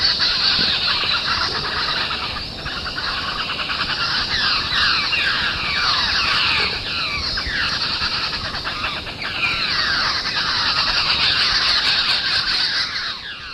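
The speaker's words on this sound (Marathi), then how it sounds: "जंगली सातभाई किंवा जंगल बॅबलर. सतत आवाजाने गोंगाट करणारा म्हणून सहज लक्षात राहतो." A flock of jungle babblers keeps up loud, harsh, squealing chatter, many birds calling at once in a continuous close racket with no pauses.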